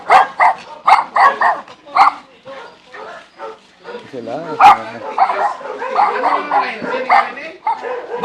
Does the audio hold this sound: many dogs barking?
yes